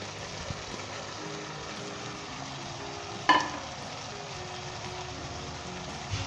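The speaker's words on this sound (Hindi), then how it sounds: "दोस्तों अब हम इसके अंदर शिमला मिर्च शामिल करेंगे।" Capsicum and potatoes frying in a pan, a steady close sizzle with faint scraping as the mix is stirred and one brief clink of the utensil midway, no voices.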